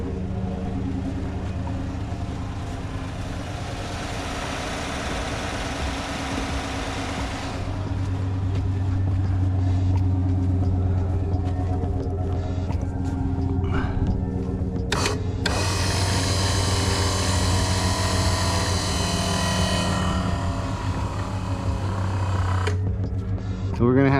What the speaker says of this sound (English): she's an old winch, and two, that's a long cable to power cable